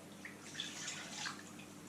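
Dandelion flower liquid is poured back into a pot, a steady soft trickle with light splashing, close and fairly quiet.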